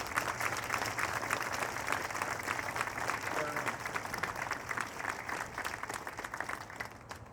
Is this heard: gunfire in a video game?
no